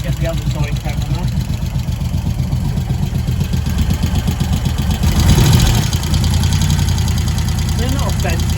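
A Moto Guzzi 1100 California Stone's push-rod engine idles close by with a steady, lumpy thumping rhythm and faint tappet clatter, briefly rising louder midway, while a person talks over it.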